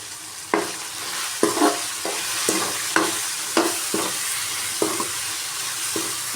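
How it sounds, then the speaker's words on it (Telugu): Potato curry with spices is stirred in a hot pan: a steady oil sizzle under regular scraping strokes of a spoon, about eight close, loud pushes in a loose rhythm. "బాగా కలిపి ఒక 5 మినిట్స్ వరకు బాగా ఉడకనిద్దాం."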